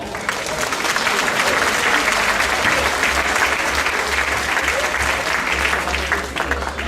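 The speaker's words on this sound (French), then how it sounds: "Et je crois qu'on peut l'en applaudir." A crowd applauds at the presentation of the Grand'Margot 2011 harvest queen: dense, sustained clapping from many people at full strength for the whole stretch, with a low hum underneath.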